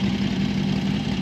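A 1979 Harley-Davidson XLH Sportster motorcycle engine idles close by with a steady, throbbing rumble, even and unbroken over a short stretch.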